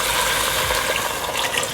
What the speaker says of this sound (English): I'm going to be adding in some water, and when I'm adding water to a hot pot, I just make sure that the water is warm